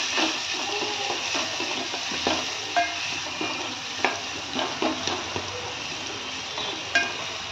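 Garlic paste sizzles steadily in a hot pan while cooking for goat intestine curry, with a spoon stirring and clinking against the pan now and then, close and alone without voices.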